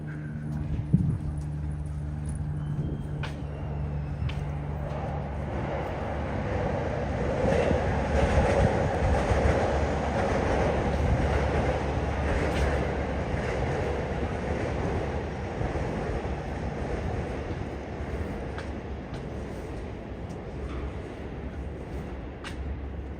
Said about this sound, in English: My guess is that it's some sort of express running on the Seibu line.